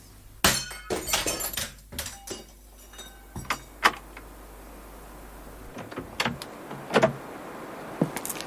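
A bust of Napoleon is smashed in a radio drama sound effect, with a sharp crash and shattering pieces followed by scattered clinks, scrapes and thuds of debris, close and loud.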